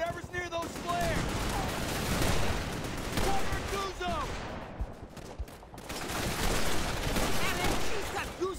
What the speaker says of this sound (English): Guzzo's pinned down by that MG.